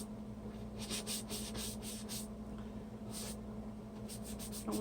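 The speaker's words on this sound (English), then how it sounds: "let's wipe off the balloon" A balloon coated in bright paint is wiped clean with steady, soft rubbing strokes that come in repeated short bursts, heard up close over a low background hum with no talking.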